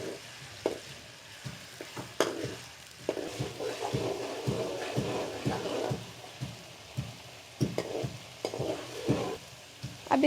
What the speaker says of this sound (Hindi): अब मसाला बनाने के लिए कढ़ाई ली है जिसके अंदर हमने ऑयल ऐड कर लिया है और उसके बाद हम इसके अंदर लहसुन अदरक का पेस्ट ऐड करेंगे।